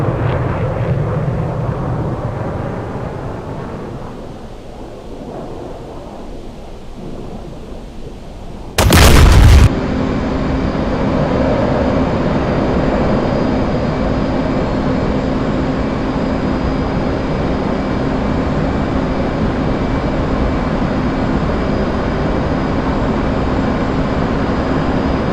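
In the DCS flight simulator, bombs are dropped in a CCRP bombardment mission. A sharp, loud blast cuts briefly through the constant roar of the aircraft engine, which continues steadily before and after with no speech.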